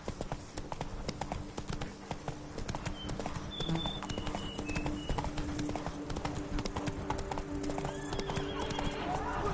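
Horse galloping and neighing in the game Witcher 3, rapid continuous hoofbeats with a whinny, mixed with game ambience and music, close and fairly loud throughout.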